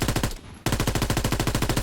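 M1941 Johnson light machine gun in a video game: a rapid automatic burst, a brief pause, then a longer continuous stream of evenly spaced loud shots, close and punchy.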